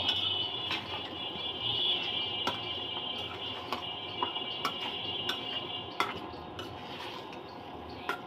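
Tender vegetable stems stir-fry in a pan with bata fish, new potatoes and tomato, a low steady sizzle punctuated by sharp scattered clinks of a spatula against the pan, with no talking.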